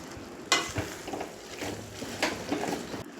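Cornflour slurry hits sizzling prawns chilli in a hot pan, followed by a loud sputter and then steady frying hiss with stirring scrapes.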